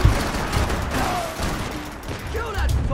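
Gunfire in the video game Max Payne 3, a burst of rapid shots and booms at the start followed by further scattered fire, heard together with a voice talking over the action.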